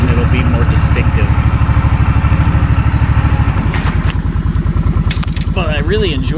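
An ATV engine putters loud and close at a steady idle-like rhythm while riding through dense woods, its pulsing exhaust throbbing throughout as someone speaks over it.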